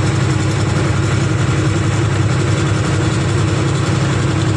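A truck creeping along in a slow traffic queue, its engine droning steadily with a low rumbling idle, loud and close, with no voices.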